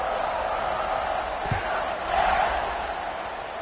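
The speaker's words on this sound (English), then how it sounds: "this crowd is buzzing after that last score" A crowd at a college football stadium buzzes steadily after a score, a wide distant roar with a brief thump midway. A commentator talks over it.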